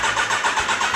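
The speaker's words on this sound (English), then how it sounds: "So you need to start your motorcycle to get your headlights on." A Kawasaki Ninja 1000SX motorcycle engine starts up, a steady close mechanical drone with a slight rhythmic pulsing that holds at an even level throughout the second, with no talking.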